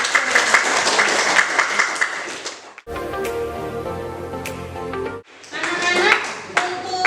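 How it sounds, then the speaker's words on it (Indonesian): Children in a ninth-grade classroom clapping for one another in loud, close applause, breaking off briefly while a teacher's voice speaks, then bursting into clapping again. "Sekali lagi, aplaus doang buat"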